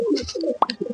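A pigeon gives a short, close coo with a soft throaty warble and a sharper note near the end, lasting under a second with no talk.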